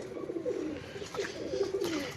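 A pigeon kept in a cage, restless and trying to get out, giving a low throaty coo that wavers and repeats, close and fairly quiet with no one speaking.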